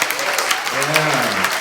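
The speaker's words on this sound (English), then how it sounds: "Can we have a round of applause for them, please?" Crowd applause at a May Day rally in Edinburgh, a dense continuous patter of many hands clapping, with a voice speaking briefly over it.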